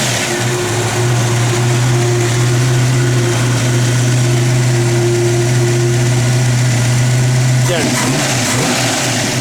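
A 1967 Ford Mustang idles steadily in light rain, its low, even engine note holding unbroken for several seconds before shifting slightly near the end.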